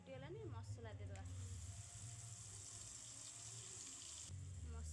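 Panch phoron spices crackling and sizzling in hot oil in a kitchen pan for a pumpkin recipe, a steady faint hiss under a woman's speech.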